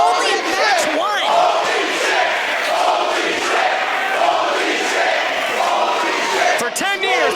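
Wrestling crowd at a Limitless Wrestling match roaring and chanting at full volume, a dense sustained wall of shouts and whoops close around, with a commentator's voice briefly heard on top.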